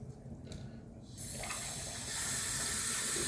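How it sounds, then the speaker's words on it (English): Tap water turned on for a fresh-water rinse during a wet shave, a few clicks and handling sounds first, then a steady, close rush of running water that grows louder. "fresh water rinse."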